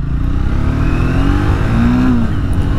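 A 2025 Triumph Speed T4 motorcycle engine revs loudly and close up, a steady deep drone with a rising then falling pitch as the throttle is opened and eased, with no talk.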